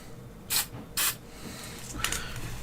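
A spray can of tester's tool coat hisses out in two short, sharp bursts, then a third softer burst after a pause. The sound is close and there is no talk.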